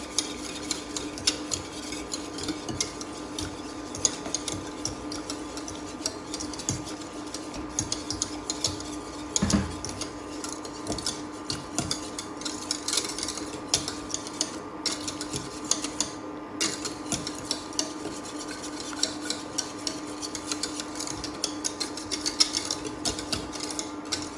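A utensil stirs béchamel sauce in a pan with continuous quick scraping and clinking strokes over a steady background hum, the stirring close and even throughout, with no voices present.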